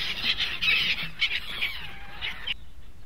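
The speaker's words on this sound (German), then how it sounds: "Der linke Clip ist relativ laut aufgenommen, weil die Möwen ein ziemliches Spektakel veranstaltet haben." Seagulls squawking loudly in repeated shrill overlapping calls close by, then cut off abruptly near the end.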